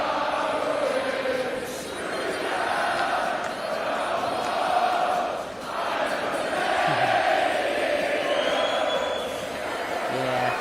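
A darts crowd roars and cheers as Stephen Bunting makes his walk-on at the PDC World Darts Championship, a broad sustained wall of voices that swells and dips slightly while staying loud throughout.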